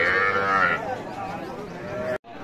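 A cow at a cattle market lets out a long, close, drawn-out moo that fades into a lower groan, followed by a sudden cut.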